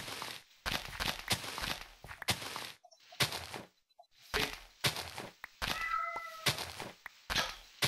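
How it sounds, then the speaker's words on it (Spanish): A cat in a video game gives a short faint meow amid a busy stretch of repeated thuds and footstep-like clatter. Bursts of noise come and go in uneven clusters with brief silences between them. "Se escucha el gato como llora acá."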